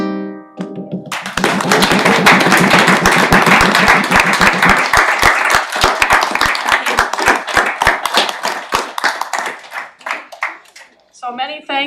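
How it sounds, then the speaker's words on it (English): A room full of people claps at a council committee meeting after a performance, dense and loud at first, then thinning to sparse individual claps before voices take over. "So once again, a big round of applause for them."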